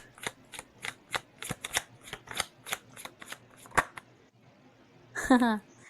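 A tarot deck is shuffled with a rapid series of crisp card snaps and riffles, then pauses before a voice speaks briefly near the end.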